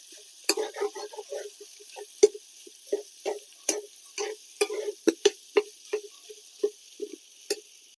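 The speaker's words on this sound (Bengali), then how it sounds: "আলুগুলো এখানে আমি চটকে দিয়ে দিয়েছি, এবারে ভেজে নেব।" Mashed boiled potatoes fry in a pan for a duck egg devil, with a soft steady sizzle under rapid, repeated spatula scrapes and taps that come in close, uneven bursts.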